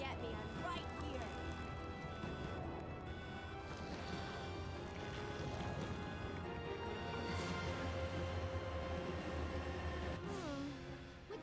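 A steady low rumble and clatter from a moving train fill the background of Resident Evil 2, running continuously. Screeches and metallic clanks rise over it, and game voices and music sit on top.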